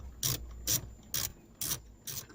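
A screw is backed out of the center console of a Porsche Boxster 986 with a ratcheting tool, five short, evenly spaced scraping clicks close up, quiet between strokes, with no talking.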